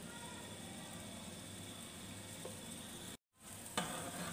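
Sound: stirring white sauce pasta ingredients in a pan

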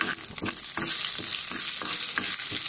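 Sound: mustard seeds, chana dal and cumin frying in oil for tempering

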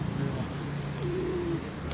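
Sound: birds cooing

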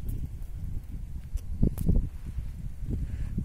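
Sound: strong wind blowing at a lakeside

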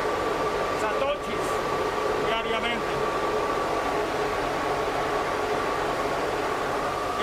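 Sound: cryptocurrency mining machines with cooling fans running

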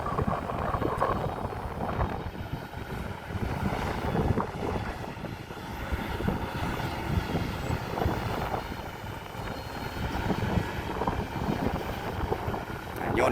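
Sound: Kobelco SK200 excavator engine running

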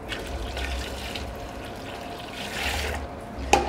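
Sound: water poured into thick gravy in a pot

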